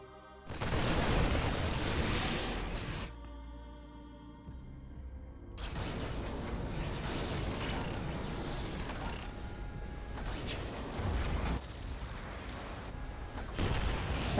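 StarCraft siege tanks fire in a busy battle, with heavy mechanical thuds and a grinding, ratcheting clatter alongside dense explosive bursts that run loud and continuous throughout.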